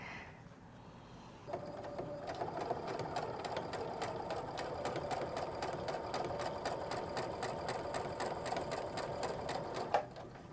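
Sewing machine running steadily as it stitches a seam on a quilted ornament, a continuous close whirring hum lasting about eight seconds before stopping abruptly.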